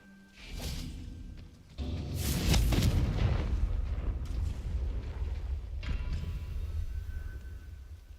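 The Confringo fire spell in the Hogwarts Legacy video game fires with a whooshing cast and then erupts in a loud, rumbling explosion that rolls on and slowly fades, with a second burst near the end.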